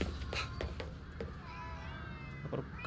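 A cat in the Ghostwire: Tokyo video game lets out a clear meow, drawn out and wavering, over a steady game background with a voice talking at the start.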